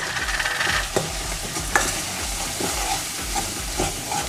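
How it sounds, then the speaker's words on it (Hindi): Red chili powder sizzles steadily in hot ghee for a tempering, a continuous frying hiss with occasional soft pops and stirring clicks, close up. "ये तड़का बिल्कुल बन चुका है, अब हम इसमें लाल मिर्च पाउडर डाल देते हैं।"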